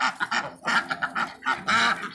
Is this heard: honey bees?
no